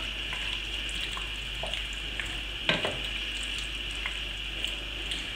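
Pork curry sauce with tomato paste simmering in a pan, a steady soft sizzle with light scrapes and a brief clatter of a spoon stirring.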